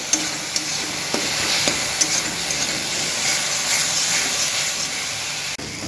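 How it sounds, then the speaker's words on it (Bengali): Apple pieces fry in a pan for apple payasam as their juice cooks off, giving a steady bright sizzle with occasional stirring scrapes, close and continuous. "এবার ভাজতে থাকবো যতক্ষণ না আপেলের যে জলটা আছে শুকিয়ে যাচ্ছে"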